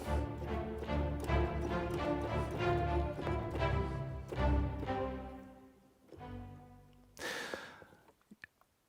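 Sampled spiccato strings play short detached notes in a dense, rhythmic orchestral passage, with Decca Tree room microphones adding spacious ambience, then break off, a final swell fading into a reverberant tail.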